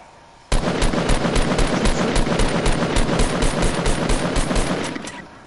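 Sustained automatic gunfire in a video game is aimed at a wall, a loud, rapid stream of evenly spaced shots that starts abruptly and runs for about five seconds before trailing off.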